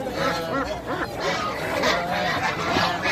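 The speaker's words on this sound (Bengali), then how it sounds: "দেখুন এখানে অসংখ্য হাঁস, এগুলো সম্ভবত চীনা প্রজাতির হাঁস।" Dozens of ducks, Chinese and native breeds, crowd an open-air duck market at Meradia Haat in Dhaka. Overlapping honks and quacks sound continuously and close by, with no gaps.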